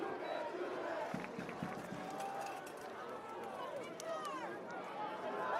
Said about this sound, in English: Crowd letting the Victor Blue Devils know that they can't do that